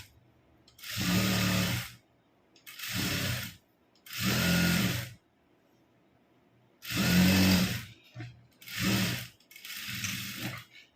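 A sewing machine stitches a gathered pant seam in six bursts of rapid, even mechanical whirring, each lasting about a second, separated by short quiet pauses and heard close with no talking.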